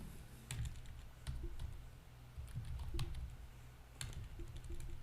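HTML heading tags are typed on a computer keyboard, with soft, quiet clicks that come singly and in short bursts, separated by brief pauses.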